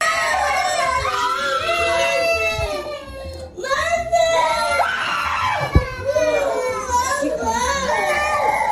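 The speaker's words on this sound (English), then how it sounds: "You just hear kids. They're not even in the room. They're in the next room over." Several children shriek and yell in the next room, with high wavering screams rising and falling continuously and one sharp knock partway through.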